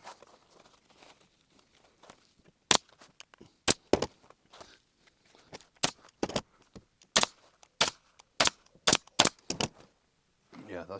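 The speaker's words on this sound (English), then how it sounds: "So I'll flip that over now and just staple to about here on both sides." A staple gun drives staples through upholstery into a car door card, about a dozen sharp, close snaps in an irregular rhythm, with quiet handling sounds between shots.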